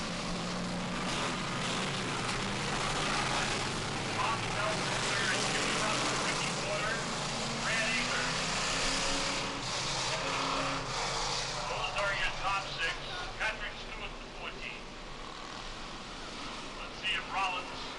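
Race cars at a speedway pull away on a restart. Their engines drone distantly and blend into a fairly quiet wash of noise under ongoing commentary.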